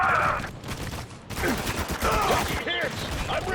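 Sustained bursts of automatic gunfire and explosions fill a firefight in the video game Spec Ops: The Line, dense and continuous, with a player's shouted voice over the top.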